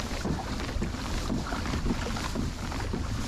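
A 2021 Hobie Compass kayak moves through open water at cruising speed, with a continuous rushing wash of water against the hull mixed with steady wind buffeting on the microphone.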